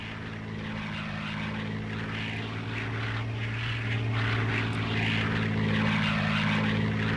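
Heavy bomber aircraft engines in the video game Codename: Panzer drone as a steady, loud propeller rumble with a deep tonal hum, swelling slightly louder toward the end with no talk over it.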